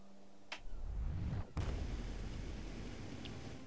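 A rocket fires in a video game with a sharp launch burst, a second heavy blast a second later, then a loud low rumbling roar that trails off, with a faint high chirp near the end.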